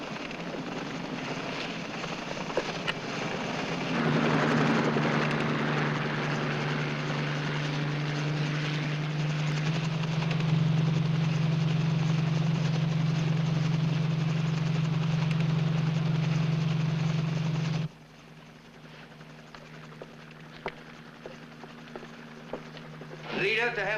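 A helicopter engine drones steadily and loudly, then cuts to a lower idle hum, with voices speaking over the noise.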